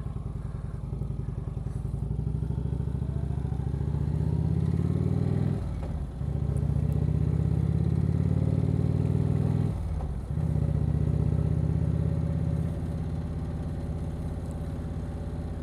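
An Indian motorcycle fitted with a Stage 1 exhaust runs steadily at close range, its deep engine note holding loud and constant with two brief dips in throttle, alone without talk.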